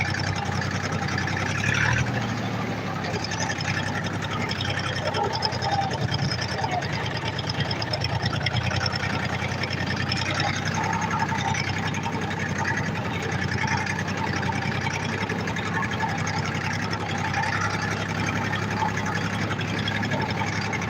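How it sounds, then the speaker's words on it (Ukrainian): A tractor engine idles steadily and continuously at moderate loudness, a low droning hum with a faint knocking texture, heard at length with no break. "трактор працює"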